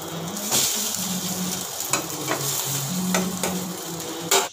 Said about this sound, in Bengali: এই তেলটা গরম হয়ে গেছে আস্তে করে লো ফ্লেমে রেখে এটা মোটামুটি 2 মিনিট করে 1 পিঠ ভাজতে হবে